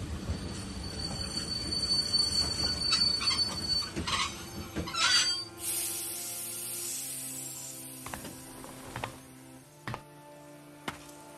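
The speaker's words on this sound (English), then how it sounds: "Now, let's stop the train." A train in The Walking Dead video game brakes to a halt, its wheels squealing loudly in long high-pitched screeches over a rumbling carriage, then fading into settling creaks and clunks with no talk.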